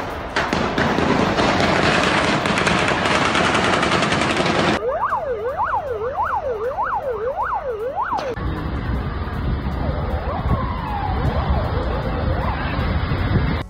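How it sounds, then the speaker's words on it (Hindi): Loud crossfire between Russian forces and terrorists during a terrorist attack in Dagestan, Russia, with dense rapid gunfire and noisy bursts, a wailing siren rising and falling through the middle, and more shooting and commotion afterward. "इस वक्त आप क्रॉस फायरिंग की तस्वीरें देखिए।"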